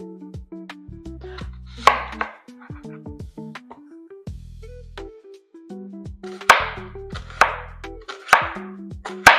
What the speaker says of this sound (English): I'm going to chop up a small onion.